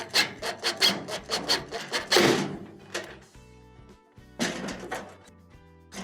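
A drill drives a screw into the chassis of a GE dryer, a rapid series of rasping bursts followed by a longer whir, a pause, then a few more short bursts close by.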